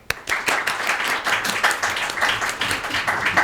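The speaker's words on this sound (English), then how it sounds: "So I would like to give an applause to the three of them, Julia Hairston, John McLucas, and Ida Caiaz" Audience applause at an evening academic talk on a Renaissance epic, a steady burst of many hands clapping from a seated crowd, fairly close and continuous for a few seconds.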